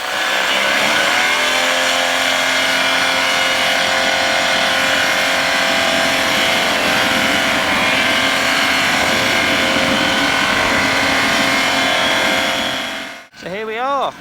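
A microlight aircraft engine at takeoff power on a sunny solstice flight, a steady loud droning roar heard close up that holds for most of the clip before cutting off briefly near the end, with no voices.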